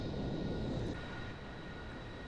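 A passenger jet in the Aerofly FS 2 flight simulator drones steadily through the Grand Canyon with a broad, even engine roar and a faint high whine, easing slightly quieter partway through.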